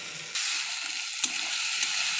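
Potatoes hitting hot oil in a pan, a sudden loud sizzle that holds steady with a couple of scraping stirs, close and alone without talk.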